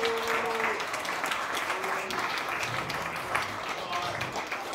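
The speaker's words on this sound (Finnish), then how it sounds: "Saisinko ohjaaja Aleksanteri Jaakkola tänne näin runsaiden aplodien saattelevan?" Audience applause at a film festival screening, steady dense clapping filling the room throughout with a few voices and a cheer mixed in.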